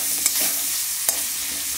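Chilli powder being stirred into a sizzling frying pan, with a steady hiss of frying oil and two brief scraping strokes of the spoon.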